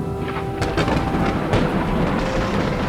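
A thunder sound effect rumbles loudly and continuously, with several sharp cracking bursts rising over the deep roll.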